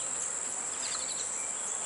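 Dark, gentle Caucasian honey bees on a hive frame give off a steady, close, continuous buzzing hum with no voices.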